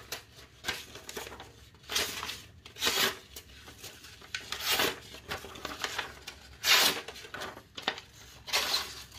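A Damascus Depot SK 56 hand-forged Damascus knife slicing through material, giving repeated rough tearing and crinkling strokes in bursts across the clip, close and fairly loud with short pauses between cuts.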